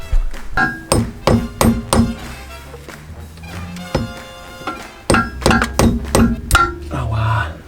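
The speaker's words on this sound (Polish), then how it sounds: "będę musiał parę razy piznąć młotkiem chyba" Sharp metallic hammer blows on a bent metal casing ring out in irregular bursts, several quick strikes at a time with short pauses between, close and loud.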